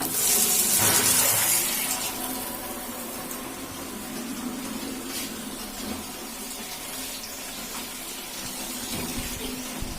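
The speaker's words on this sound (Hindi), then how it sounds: "टूंटी भी आ रही है, आ गया है पानी।" Water runs from a household tap, a steady hissing flow that bursts loudly at the start and then settles into a continuous stream close by, with small clatters and no talking.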